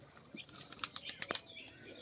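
Pigeons flap their wings in a short, faint flutter of soft papery beats, a few quick bursts clustered together over a quiet background.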